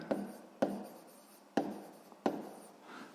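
Pen writing on paper up close, four sharp taps each trailing into a brief quiet scratching stroke, spaced unevenly over a few seconds with no voices.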